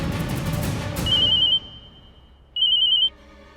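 Electronic telephone ring in an indoor domestic scene: two bursts of a steady high-pitched warble, the first rising out of background noise and fading, the second clean and loud, with a quiet gap between them.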